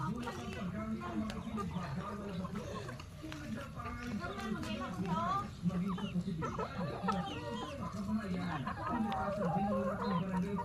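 Chickens cluck and murmur close by in a busy, continuous chatter, with people talking over the flock throughout.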